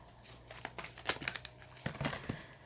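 Tarot cards are shuffled by hand in a series of close, crisp rustles and flicks, irregular bursts with short pauses between them.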